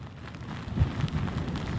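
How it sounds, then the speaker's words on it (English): Rain just beginning in a storm as the wind picks up, a steady hiss with gusty low rumbling and a brief thump, moderately loud and with no one speaking. "The rain really did just start. Winds picking up, too."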